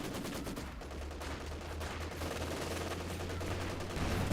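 Panzer IV tank fire and Maxim machine gun in a Company of Heroes 2 battle: dense, continuous gunfire and explosions with a low rumbling engine drone underneath, loud and sustained throughout.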